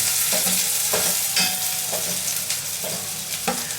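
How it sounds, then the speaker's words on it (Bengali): Onions fry in hot oil in a saucepan for vegetable pulao, with a continuous close sizzle broken by regular stirring strokes. "প্রথমে আমি সসপ্যানে তেল গরম দিয়ে হালকা করে পেঁয়াজগুলো ভাজবো।"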